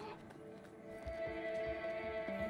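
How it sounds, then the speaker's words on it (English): Horses in the video game A Way Out snort and shuffle, with a drawn-out neigh near the end, over low ambient game music. The sound is moderately close and has no talking over it. "This might be able to scare the horses."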